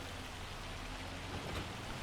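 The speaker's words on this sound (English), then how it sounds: "Heavy hail coming down right now." Heavy hail in the video game Farming Simulator 25 hisses down as a dense, constant, loud patter with no break, and nobody speaks.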